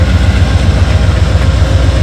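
Amtrak Empire Builder diesel locomotive idling at a station stop, a deep steady throbbing rumble, close and loud, without talk.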